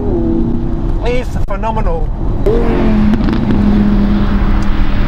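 Engine of a pre-facelift entry-level Audi R8 revs up loudly twice, then settles into a steady, strong drone, with someone talking over the first part.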